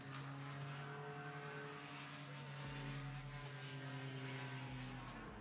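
Paramotor flying a slalom course at the FAI World Paramotor Slalom Championships, its propeller engine droning steadily with a strong low hum throughout, loud and continuous with no talk.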